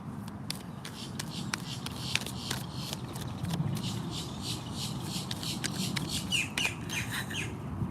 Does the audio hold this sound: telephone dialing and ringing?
no